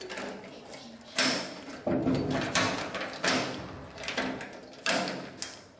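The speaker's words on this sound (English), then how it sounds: "Lock the door." Heavy metal prison cell doors, bars and solid steel, clanking shut and being locked, several loud sliding and latching impacts in succession with mechanical rattles between them, no talking.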